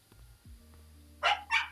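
Two short, sharp yips from a female puppy in quick succession, close by, following a quiet stretch with faint low hums and soft knocks.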